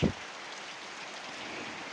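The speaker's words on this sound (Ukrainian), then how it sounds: "Щороку іде дощ." Rain falling in a village in the Poltava region, a steady dense hiss of drops on surfaces, close and even, with one brief thump at the start.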